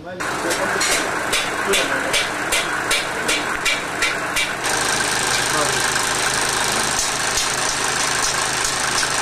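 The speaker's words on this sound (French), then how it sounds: "Le moteur a fonctionné pendant 15 minutes." The motor of a nanoplating machine runs with a steady loud whirring drone, a rapid ticking pulse in the first half that then gives way to an even hum.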